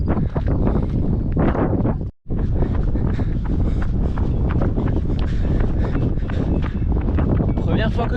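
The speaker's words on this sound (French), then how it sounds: "Il y a un peu plus de vent aujourd'hui" Steady, loud wind buffets the microphone on a mountain trail in the Pyrenees during a trail run, roaring continuously with a brief dropout near the start and rustling movement beneath.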